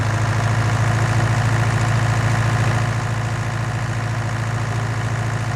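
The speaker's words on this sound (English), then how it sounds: "Started out with a little John Deere 4020." A small John Deere 4020 tractor idles in the Farming Simulator 19 video game, a steady low diesel chug with even vibration that runs unbroken and close throughout, with no talk over it.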